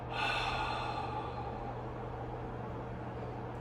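A person breathes in a guided Wim Hof-style breathing exercise, a single deep, forceful exhale near the start that trails off into quieter airy breathing against a low steady hum.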